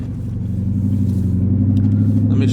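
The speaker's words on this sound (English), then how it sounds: "Let me give y'all some first gear pulls." Lexus SC400 fitted with an aftermarket exhaust pulls hard in first gear, a loud, close, deep rumbling engine note that builds steadily with strong low harmonics throughout.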